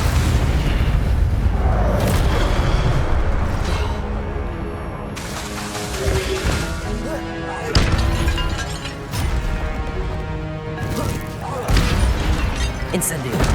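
Series of booming fire-spell blasts in Hogwarts Legacy, several heavy whooshing bursts with crackling tails spaced a few seconds apart over a constant battle din, loud and close, with a voice speaking among them.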